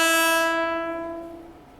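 The Nagercoil Express sounds a long, loud horn blast on approach, a rich harmonic tone that starts strong and slowly fades away.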